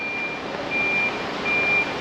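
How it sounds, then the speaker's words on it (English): A reversing bus emits steady repeated electronic beeps, three evenly spaced tones over a constant bed of traffic and street noise. "It's a bus beeping."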